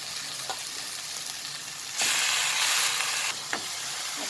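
Chopped vegetables hitting a hot pan of oil with turmeric and Konkani masala, a steady close sizzle that jumps into a louder, fuller hiss, then settles with a stirring clack.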